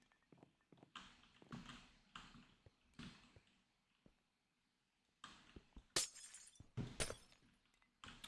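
Glass walls shatter in the Minecraft modpack All The Mods 9, a rapid run of bright breaking crashes and clinks in irregular bursts, with a short lull midway before louder smashes near the end.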